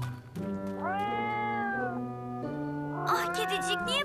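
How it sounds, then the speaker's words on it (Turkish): A cartoon cat meows several times in a row, drawn-out sliding mews close up over soft background music. "Ah kedicik, niye böyle miyavlıyorsun?"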